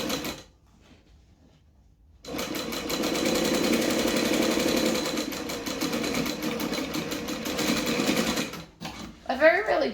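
Sewing machine stitching a bag lining runs in a fast continuous whir for several seconds after a brief quiet start, stopping near the end as a voice begins.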